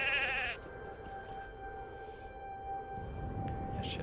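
A sheep in the Lord of the Rings Online video game gives one short, loud bleat, followed by quieter ambient game sound with faint tonal hums.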